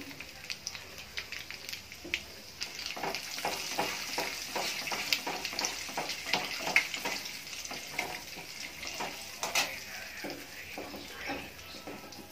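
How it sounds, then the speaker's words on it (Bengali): Bay leaf and cumin sizzle in hot oil with crackling, spattering bursts that rise and fall over several seconds, close and fairly loud, no voices. "আমি ফোড়ন দিয়ে দিচ্ছি তেজপাতা আর জিরে"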